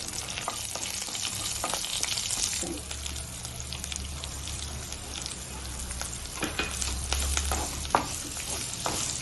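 Onions fry in a modest amount of oil for a beetroot stir-fry, giving a continuous close sizzle with soft stirring scrapes and a low hum underneath; no voices.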